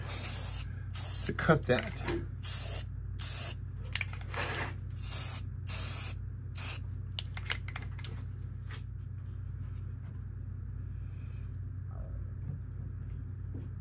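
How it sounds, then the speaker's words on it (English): Bursts of spray paint hiss close by as paint is sprayed onto a handmade fairy house, several short blasts in quick succession that fade to quiet, with a few words spoken in between. "I'm going to go ahead and spray it down at the bottom"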